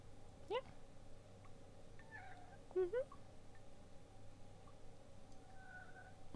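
A cat in the video game Dead Secret Circle gives a few short, clear meows, one early and a quick pair midway, over a quiet ambient hum.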